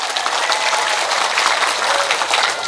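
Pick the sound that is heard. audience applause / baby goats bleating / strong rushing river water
audience applause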